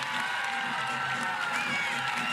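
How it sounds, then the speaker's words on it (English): Home crowd at a Cascade vs Blaze AUSL professional softball game at Smith Family Stadium cheering runs: a continuous roar of cheers and clapping, with a commentator talking over it. "the home crowd loving these runs for their team"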